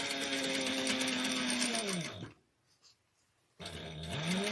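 Sewing machine stitching tan burlap fabric for a bag, running in a steady buzzing whir, stopping abruptly for about a second, then starting up again close and loud.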